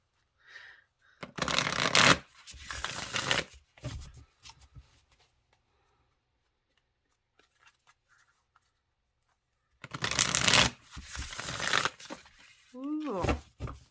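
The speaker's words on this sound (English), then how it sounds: "They shuffle nicely." A deck of oracle cards is riffled twice in quick, crisp bursts, with brief speech between and after the shuffles.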